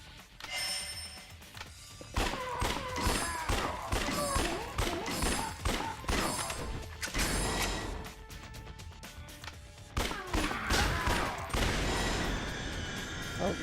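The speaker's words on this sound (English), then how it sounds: "the fireworks have begun" Fireworks burst in a summer night scene, a rapid series of sharp cracks, thumps and crackling pops that come in bursts with short pauses between them.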